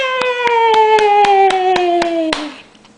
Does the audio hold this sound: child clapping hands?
yes